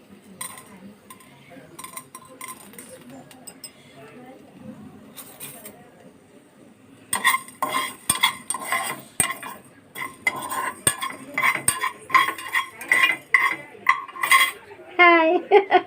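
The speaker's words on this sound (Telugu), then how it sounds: "ధనియాలు, జీలకర్ర, మెంతులు, ఆవాలు అనేవి ఇలాగా డ్రై రోస్ట్ చేసుకుందాం." Fenugreek, coriander, cumin and mustard seeds are dry roasted in a pan, with a spoon scraping and clinking against the metal in steady stirring strokes. Someone talks at the start over a quieter stretch.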